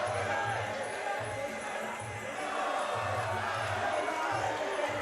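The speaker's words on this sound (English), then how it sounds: "Partisan crowd here in the Devenish backing their man, Niall McGreevy" A partisan crowd at a Muay Thai fight in the Devenish cheers and chants for their man in steady rhythmic bursts, a dense hubbub of many voices filling the hall with no clear break.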